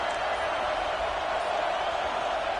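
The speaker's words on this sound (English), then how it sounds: "Listen to this crowd just shaking the girders of this place," Dense, steady roar of a stadium crowd cheering at an LSU versus Tennessee football game, a continuous broad wash of noise with no breaks, loud and enveloping throughout.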